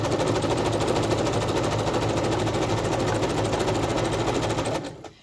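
A sewing machine runs in one steady, continuous burst as it stitches through off-white textured fabric, holding an even mechanical whir for about five seconds before stopping abruptly.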